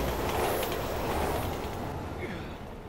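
A train passes in the video game Resident Evil 6, a steady broadband rumble and rattle that holds at an even level for the whole moment, then eases slightly toward the end.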